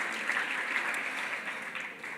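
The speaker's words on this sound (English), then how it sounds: "So give Manpower a big applause." Steady applause from an audience at a closing reception and dinner, a dense even wash of many hands clapping that holds throughout with no voices over it.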